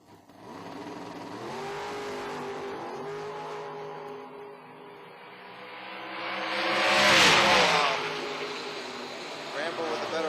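A 1955 Chevy and a black-and-white dragster launch in a Quick Rod drag race at an IHRA event, engines revving and rising into a loud swell that peaks as they pass, with a voice faintly underneath.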